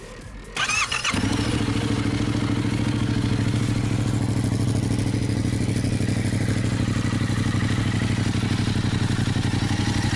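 A Yamaha XSR700 motorcycle engine cranks and catches after a brief pause, then settles into a steady, loud idle with a throbbing low rumble that holds for the rest of the clip; no one speaks.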